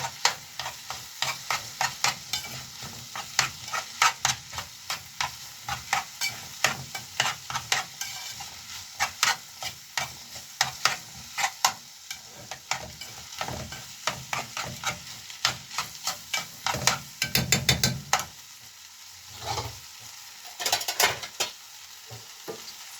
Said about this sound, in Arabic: هنفضل نقلب بقى في الفريك لحد كده ما يدخل في السوا معانا شويه.